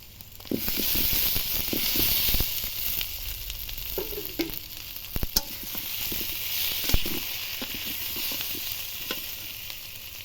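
Fried potatoes dropped into a pangas fish curry in a hot pan, a steady sizzle and hiss with scattered clinks and scraping stirs throughout, close and moderately loud.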